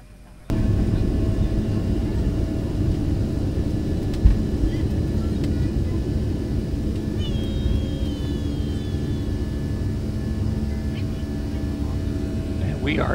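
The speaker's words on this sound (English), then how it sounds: "And we are airborne and on our way to Memphis." Passenger airplane taking off on a cold morning in Florida, heard from inside the cabin as a loud, steady engine roar that starts abruptly and holds throughout, with faint chirps and thin tones over the drone.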